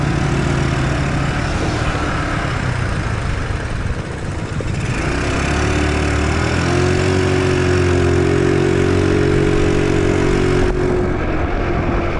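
A motorcycle engine runs close and loud with a steady rumbling idle throughout, its pitch shifting slightly midway, with no talking.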